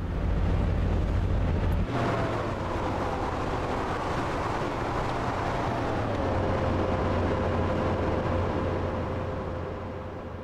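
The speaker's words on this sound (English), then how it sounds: "There goes our train into the distance" A GWR high speed train in the Train Sim World 4 game pulls away from a station at Maidenhead with a steady loud rumble and a gliding whine that falls in pitch, easing off as it recedes.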